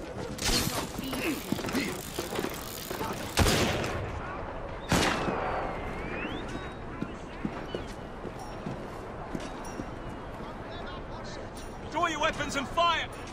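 In Assassin's Creed Syndicate, gunfire cracks sound in a few loud separate bursts, with voices talking in the middle of a busy street fight.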